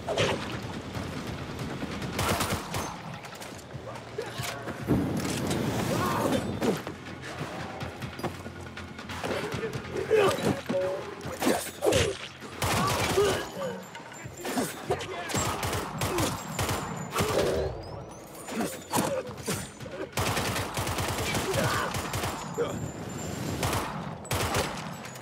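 Rapid bursts of automatic gunfire in the video game Dying Light 2 keep going throughout, dense and loud, with crashing impacts mixed into the clatter.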